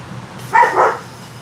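A puppy gives a single short, fairly close bark, a brief yip heard alone over a quiet background during a podcast livestream.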